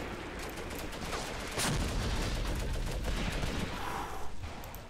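Artillery guns firing in the Graviteam Tactics: Mius Front wargame, a heavy distant rumble with a sharp blast near the middle and continuing rolling booms, no talking.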